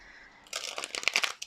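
Tarot cards shuffled by hand in a short, crisp burst of riffling flutters and taps, close and fairly quiet, with no talking.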